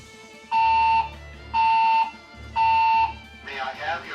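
Building fire alarm sounding three loud, even half-second electronic tones about a second apart, followed by the start of a recorded voice announcement.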